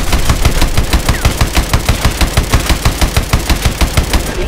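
Heavy main gun firing in Call of Duty Advanced Warfare, a loud, close, rapid stream of evenly spaced shots that hammers on steadily without pause.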